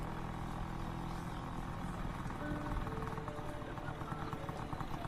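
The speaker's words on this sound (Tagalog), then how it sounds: "Sasakay ako ng motor sa huling pagkakataon." Someone rides a motorcycle, and a faint, continuous engine drone with a low, uneven chug sits at a moderate distance, with no clear speech over it.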